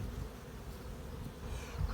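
Dense, steady buzzing of many honey bees around a hive in Macahel, Artvin, a continuous low drone with no voices.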